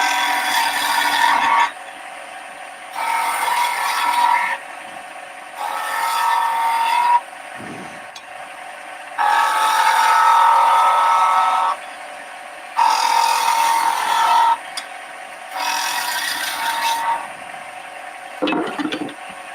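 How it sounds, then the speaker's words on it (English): A skew chisel cuts beads into spinning wood on a lathe in repeated bursts of harsh, rasping cutting about two seconds long, separated by short pauses over a steady machine hum. "do the bead with a skew chisel"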